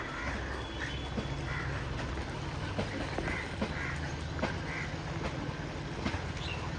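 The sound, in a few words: ducks at a pond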